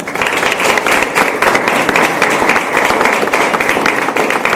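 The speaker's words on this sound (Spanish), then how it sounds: "quiero que lo recibamos con un fuerte aplauso al imán Emerson Gerardo Bukele Quintanilla" Loud sustained applause from an audience welcoming an imam at a talk on Islam in El Salvador, thick continuous clapping throughout.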